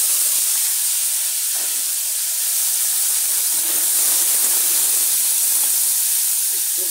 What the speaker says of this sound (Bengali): এখন পেঁয়াজ বাটা আর আদা বাটা দিয়ে দিচ্ছি।